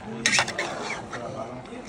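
Spoon scraping and clinking in a cooking pot as a tomato and massalé mixture is stirred, a bright metallic scrape near the start then softer repeated stirring, with voices and background noise underneath.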